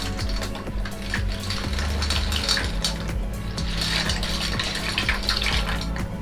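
Dry shell pasta tipped into a pot of boiling water for seafood pasta, a steady close rattle and clatter of small pieces with bubbling beneath, no talking.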